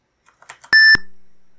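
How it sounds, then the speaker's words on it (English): A single short electronic beep from an old DOS-style video game, a steady pure tone of about a quarter second that rings out clearly after a few faint soft ticks. "There's the little beep."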